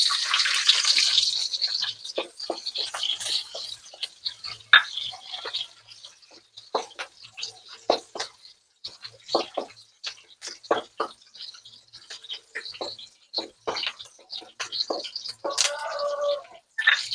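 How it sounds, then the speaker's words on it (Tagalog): Garlic and onion sauté in a pan for squid adobo. A soft sizzle is broken by scattered crackles and pops, irregular and close, with faint background noise. "So, gisa na po natin bawang. Ito yung sibuyas."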